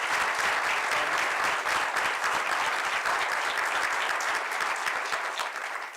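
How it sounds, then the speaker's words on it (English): Steady, loud applause from an audience at an anniversary celebration, sustained dense clapping throughout with no talking over it, tapering slightly at the end. "Give all these folks a round of applause if you would."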